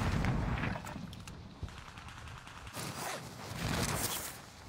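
Gunfire in the video game Call of Duty, a dense stretch of rapid shots with broadband bursts and muffled thumps, steady and fairly loud throughout with no talking.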